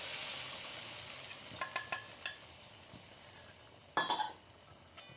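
Chicken masala frying in a pan as water goes in, a loud hiss that fades, then scattered spoon clinks and scrapes with a sharp burst of sizzle near the end, close, no voices.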